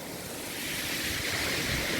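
Sea waves wash onto the shore at Eastbourne in a broad, continuous rush of surf that swells slightly louder, mixed with wind buffeting the microphone, with no voices.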